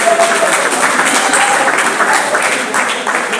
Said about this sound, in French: on peut applaudir pour les gens de logistique